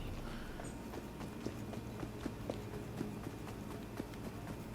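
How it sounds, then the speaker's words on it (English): Horse hooves in the video game Assassin's Creed Syndicate, a steady clip-clop of a trotting horse over a low ambient game backdrop, moderately close, with no talk. "I'm definitely gonna need a horse for that."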